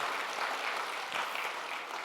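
A church congregation at a New Year's Day Sunday service applauds its choir and orchestra with steady, dense clapping from many hands, filling a large room evenly and without pause.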